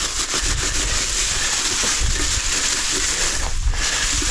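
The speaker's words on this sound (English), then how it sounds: "We are going to take some of these dry stalks or whatever they are and just kind of grind them through the grater." Dry plant stalks are ground through a grater outdoors, producing a continuous rough rasping scrape with uneven strokes, close and fairly loud with no talk.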